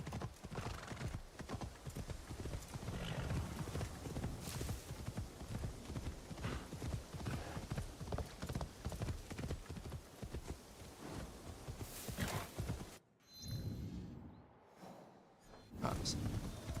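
Horse galloping in the video game Assassin's Creed Shadows, dense continuous hoofbeats with a neighing whinny, mixed with game effects and a voice, cutting briefly to near-silence before the hooves resume.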